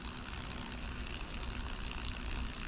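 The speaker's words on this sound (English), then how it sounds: "the Berkey water filter is how we fill up our water for cooking" Water runs steadily from a Berkey gravity water filter into a container, a continuous broadband trickling and gushing hiss with no pauses or voices.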